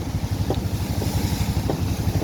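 Strong wind roaring steadily along the shore during heavy rain, with buffeting gusts on the microphone and surf washing below, as two ships collide offshore in the storm.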